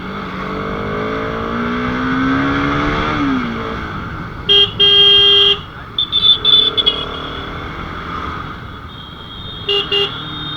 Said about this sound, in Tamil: ஆரன் ஓகே தான், நல்லா லோட தான் இருக்குது.